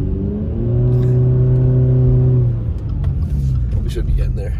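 A car engine revs hard to warm up in snowy, cold Big Bear weather, a loud sustained droning rise that holds and then drops back to a rumbling idle, with a voice talking over it.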